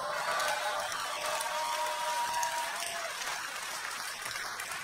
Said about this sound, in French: C'est bien quand vous applaudissez comme ça, juste après le titre